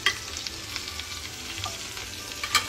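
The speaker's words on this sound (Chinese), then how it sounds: "直接扔一块黄油下去让它融化" Butter melting and frying in a pan with garlic added, cooked alongside steak: a soft, steady sizzle with light stirring scrapes, heard close and alone without talk.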